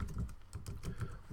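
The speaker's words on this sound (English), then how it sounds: "I'll just type it out." Rapid key clicks from typing on a computer keyboard, a quick close run of soft taps with no talking.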